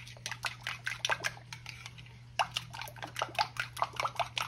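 A spoon stirs and scrapes through banana pudding in a pot, giving quick repeated clinks and wet mixing sounds in an uneven rhythm, close and moderately quiet, with one brief pause midway.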